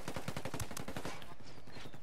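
Rapid automatic gunfire from a video game rattles in a fast, even burst of sharp shots for about a second, then breaks off into a quieter fading tail.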